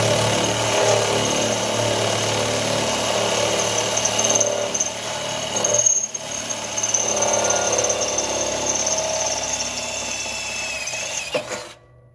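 A power drill with a larger bit bores through a steel plate, running steadily and loudly up close, grinding with a high whine for about eleven seconds before cutting off abruptly.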